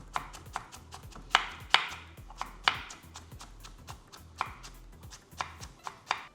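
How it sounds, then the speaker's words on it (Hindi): A knife chops raw turmeric root into fine strips on a board, close and crisp, with steady rhythmic strokes and a few harder, louder hits, and no voices. "चलिए, हल्दी काट ली,"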